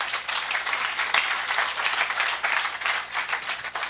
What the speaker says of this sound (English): This is a good time to clap.